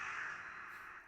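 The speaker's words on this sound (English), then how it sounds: "Crow." A single drawn-out crow caw in the Attack on Titan anime, harsh and fairly loud, with no talk over it.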